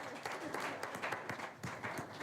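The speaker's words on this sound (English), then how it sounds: "Okay, now we can clap." An audience at a board of education meeting claps steadily in a dense, fairly faint patter of many hands, with a little murmuring underneath.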